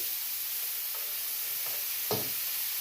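A tuna steak sizzles in a pan with a soft, even frying hiss, close but gentle, broken by a faint scrape or tap near the end.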